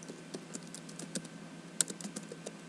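Quiet, rapid clicking of keys on a computer keyboard as code is entered, an uneven run of soft taps with one sharper keystroke partway through.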